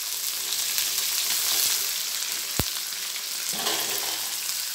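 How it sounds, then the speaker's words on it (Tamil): Medium-cut chicken pieces fry in oil with onion, making a loud, even sizzle close by, with a single sharp clink partway through and a few soft stirring scrapes and no voices. "இது 5 நிமிஷம் நல்லா வதக்கிக்கலாம்"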